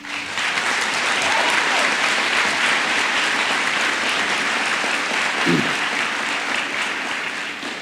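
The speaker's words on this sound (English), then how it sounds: "let us give a round of applause to these wonderful people." Commencement crowd at a community college graduation applauds for family and supporters, a dense, steady wash of clapping that holds loud and even for the whole stretch with no voices over it.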